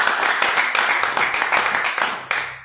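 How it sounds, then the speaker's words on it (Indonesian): A church congregation claps together in brisk, even rhythm for a few seconds, the applause close and filling the room before fading out. "Beri tepuk tangan bagi Tuhan Yesus."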